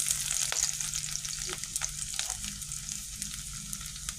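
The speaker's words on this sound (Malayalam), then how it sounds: "എണ്ണ നന്നായിട്ട് ചൂടായിട്ടുണ്ട് അതിലേക്ക് നമുക്ക് ഇഞ്ചി ചേർക്കാം വെളുത്തുള്ളി ചേർക്കാം" Ginger and garlic sizzle steadily in hot oil for a Kerala-style beef roast, a dense close crackling hiss with occasional sharper pops and stirring clatter, no voices.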